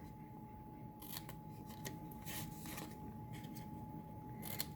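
Scissors snip through cardstock while V-cutting the corners of a paper treat box, a few short crisp cuts spaced across the moment over a faint steady hum, with no talk.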